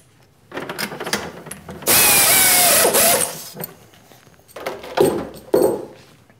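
A 1/4 inch three-flute carbide end mill, polished for aluminum, interpolates counterbores in an aluminum motor clamp with air and coolant. Close machining noise comes in bursts, with one loud sustained cutting stretch in the middle and shorter surges later.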